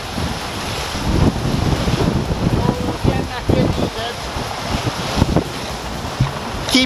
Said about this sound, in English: Lots of wind and waves.